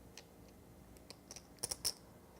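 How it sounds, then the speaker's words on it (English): Casino checks shuffled with one hand so they interlace, a few faint clicks that build to sharper, close clacks of chips, no talking. "I'm going to do what's called shuffle the checks with one hand, and you see how they're interlaced every other check"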